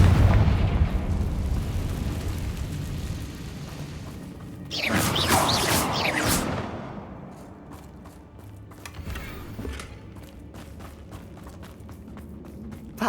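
A Confringo fire spell blasting in Hogwarts Legacy, a burst of booming, crackling explosion rising mid-clip over rumbling game ambience, followed by scattered sharp clicks and debris pops.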